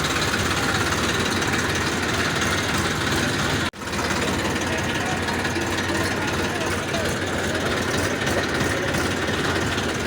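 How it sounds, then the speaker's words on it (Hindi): A tractor engine idles steadily while the tractor is stuck in a traffic jam on a road, a loud continuous low rumble with one brief dropout midway. "ये ट्रैक्टर यहाँ पे बीच में फंस गया है"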